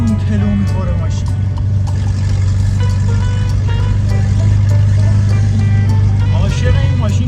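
A car with a handmade front fender drives along with a loud, steady engine and road drone, while someone speaks over the noise inside the cabin.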